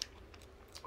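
A few faint, crisp bites and soft chewing into an Oooh! Fudge Caramel Banoffee Pie with caramel running through the middle, close and quiet with no talking.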